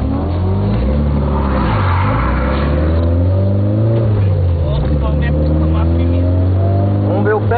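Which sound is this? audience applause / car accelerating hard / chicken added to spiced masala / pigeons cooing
car accelerating hard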